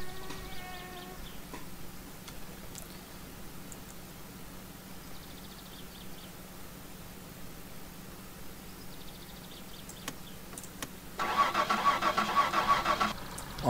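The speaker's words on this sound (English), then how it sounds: "Start the van." A van engine in the My Summer Car video game cranks and catches near the end after a stretch of quiet idle-like hum and small clicks, the start loud and close.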